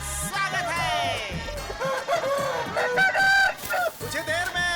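Chickens and roosters at a chicken competition cluck and crow loudly over one another, with a dense, continuous crowd of birds and background commotion.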